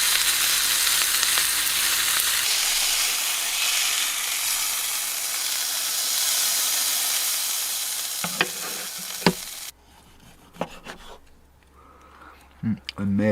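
A steak sizzles and fries loudly in a pan inside a camper, a steady crackling hiss for most of the stretch that cuts off abruptly, followed by a few scattered clicks and clatters near the end.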